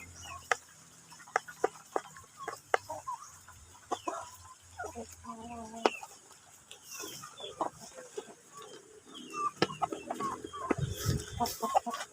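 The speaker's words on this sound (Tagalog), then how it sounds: "Grabe mga ka-farming, ang lakas na kumain ng mga manok na ito." Large, hungry backyard farm chickens feed in the rain, giving scattered clucks and short calls over a low, steady background, with occasional louder bursts near the end.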